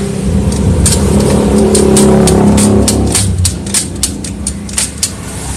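A Honda Supra 125 motorcycle engine runs at a steady, loud idle during a check for an odd gear-shifting noise, with sharp mechanical clicks ticking out over the hum.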